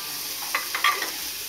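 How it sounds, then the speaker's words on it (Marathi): Coriander and ginger roasting in a pan for a dry coconut masala, a steady close sizzle with a few brief stirring scrapes and no talking. "त्याच्यामध्ये मी कोथिंबीर आणि आलं पण टाकते भाजायला।"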